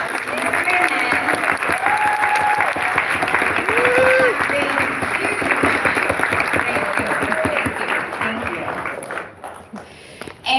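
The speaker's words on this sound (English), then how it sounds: "Give these men a round of applause." A live audience applauds steadily for a group of men called up to stand, dense clapping sustained for about ten seconds before thinning slightly at the end, with a voice speaking over the crowd.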